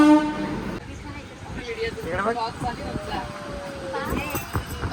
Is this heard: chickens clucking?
no